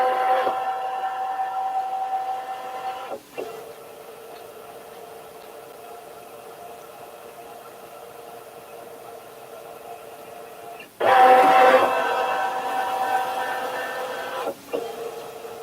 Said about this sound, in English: So now your scanning bed is going to move.